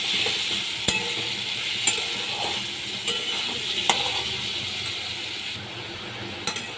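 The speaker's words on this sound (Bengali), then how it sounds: "নুন আর হলুদ দিয়ে আমি ভালো করে ভেজে দিচ্ছি।" Potato pieces fry in hot oil with salt and turmeric powder in a pan, giving a steady, close sizzle. Regular sharp taps of a utensil stirring against the pan punctuate the sizzle.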